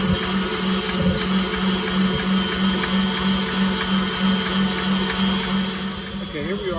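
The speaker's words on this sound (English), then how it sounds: "you have to put it back in the mixer or use your hand mixer" An electric mixer beats icing, a steady motorized whir with a pulsing hum that keeps an even rhythm throughout and eases slightly near the end.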